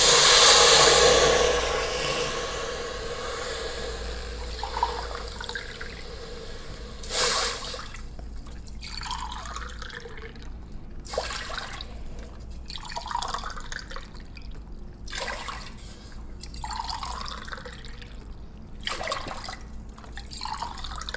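Water is poured into a pot for making ven pongal: a strong splashing pour opens the sequence, followed by quieter intermittent splashes and drips at a steady spacing.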